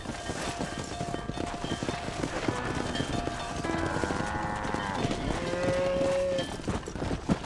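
A cattle herd in the Red Dead Redemption game lows repeatedly, several moos overlapping at close range over a busy bed of hoof clip-clops from horses and cattle, with no talk.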